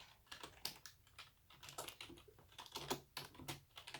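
Rapid, uneven typing on a computer keyboard, close and fairly quiet, with clustered keystroke clicks and short pauses and no talking.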